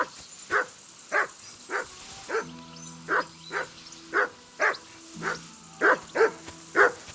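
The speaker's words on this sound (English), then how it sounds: "That barking was a pain in the ass." A dog barks repeatedly in Kingdom Come: Deliverance 2, around ten sharp, evenly spaced barks close by, with a low steady drone and sustained tones underneath.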